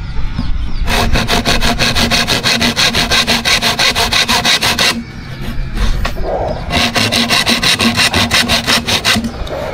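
A hand saw rasps through wood in fast, rhythmic back-and-forth strokes while repairing a chicken coop, loud and close, pausing briefly midway before resuming.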